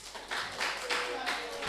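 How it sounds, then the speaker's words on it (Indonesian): Audience clapping at a school public-speaking session, a short burst of scattered handclaps in a few rhythmic waves, moderately near and fairly soft. "Oke, boleh tepuk tangan."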